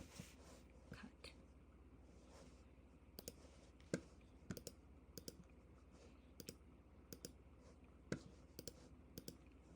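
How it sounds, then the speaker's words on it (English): Computer mouse clicks, including right clicks, during photo editing: a scattering of sharp, faint, close clicks at irregular intervals over a low steady hum, with no voices. "let me click the mouse, right mouse click"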